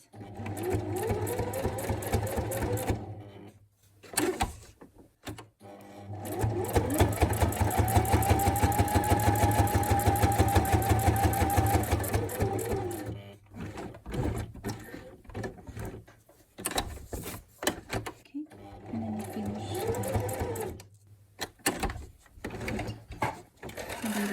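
Sewing machine stitching an elastic band closure onto a small junk journal, running in steady bursts of rapid whirring stitches with short pauses and a few clicks in between.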